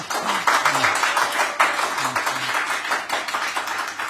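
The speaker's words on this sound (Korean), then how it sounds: "우리와 같은 박수를 한번 여기서 여기 유튜브에 들리게 한번 좀 쳐주세요." A crowd claps together in a steady burst of applause, with a voice briefly audible underneath.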